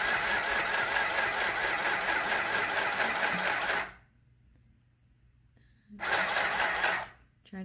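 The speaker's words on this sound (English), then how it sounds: "sewing the shoulder seams together" A sewing machine stitching the shoulder seams of a hoodie runs in a loud, fast, steady whir for about four seconds, pauses, then runs again briefly.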